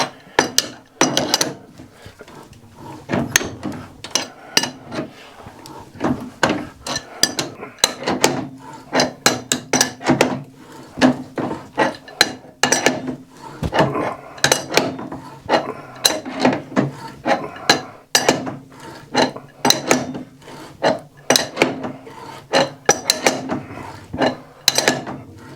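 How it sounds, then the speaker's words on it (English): A threading die cuts tight threads on a BSP steam fitting in a metal-working shop, giving repeated rasping, scraping bursts in an irregular rhythm, loud and close with no talking. "I can get the die wound up there. These are cutting nice tight threads."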